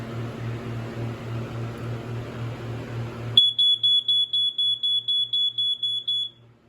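A smoke alarm from a collection sounds as a piercing, evenly pulsed electronic beep, about a dozen loud, close chirps in a row after a humming background cuts out, then falls silent.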